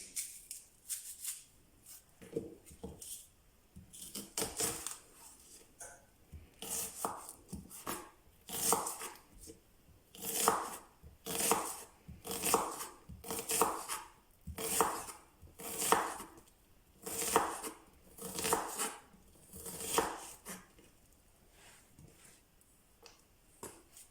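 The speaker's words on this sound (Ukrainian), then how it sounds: "Спочатку поріжемо цибулю. Розрізаємо її на четвертинки." A knife chops an onion steadily on a cutting board, with quick repeated thuds that grow into a regular rhythm, close and fairly loud, no talking.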